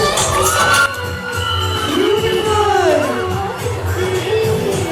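Audience at a school annual day cheers, whoops and shouts for a girl on stage, a loud sustained crowd roar with children's yells throughout.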